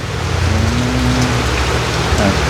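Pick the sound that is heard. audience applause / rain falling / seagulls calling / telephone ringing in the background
rain falling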